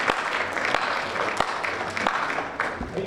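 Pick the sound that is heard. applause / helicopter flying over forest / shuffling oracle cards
applause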